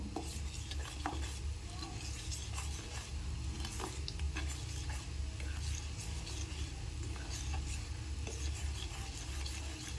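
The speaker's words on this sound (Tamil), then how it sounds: "இப்போ இதோடு சேர்த்து நல்லா இந்த கடலை மாவை கரைச்சி விட்டுக்கலாம்" Gram flour being stirred into melted ghee in a pan for Mysore pak, a continuous soft scraping and gentle sizzle with occasional light clinks of the spoon against the pot.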